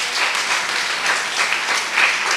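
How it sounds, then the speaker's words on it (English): An audience at a primary school end-of-year ceremony gives a round of applause for honored pupils, a brief burst of dense, even clapping filling the hall for a couple of seconds. "I ask for a round of applause."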